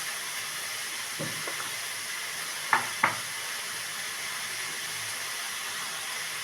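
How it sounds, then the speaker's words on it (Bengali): Turmeric, cumin and coriander powder stirred into oil in a frying pan, under a constant hissing sizzle, with a soft scrape and then two quick clinks of a spoon against the pan. "দিয়ে ভালো করে এটা নাড়ব।"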